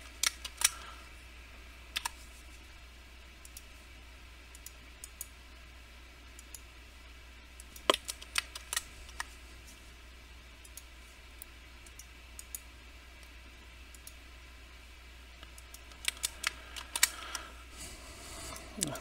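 Mouse clicks on a computer, a few sharp isolated ticks scattered over a quiet background, with small bursts near the start, middle and end.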